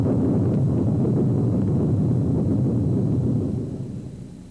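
A thunder sound effect for lightning gives a steady, dense low rumble that rolls on for several seconds and then fades out at the end, with no other sounds.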